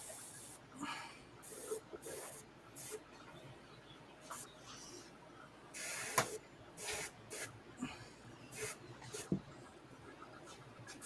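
Bursts of spray paint hiss during an overspray-heavy painting session, a rapid series of short and longer blasts over steady background noise, fairly close.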